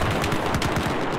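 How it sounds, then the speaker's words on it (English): Loud, continuous machine gun fire from Battlefield 4 on the Shanghai map, a rapid unbroken stream of shots filling the whole moment with no talking. "It's a machine gun."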